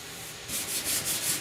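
Steady abrasive rubbing of body filler on a 1969 Chevy C10 truck's cowl and firewall, growing into rhythmic back-and-forth sanding strokes about every quarter second; close and fairly quiet, with no talking.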